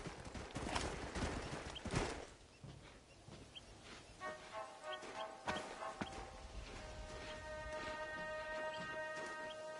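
Horses' hooves in a PS4 video game, a soft run of clip-clop steps under game ambience, followed by tonal musical chimes and a sustained hum.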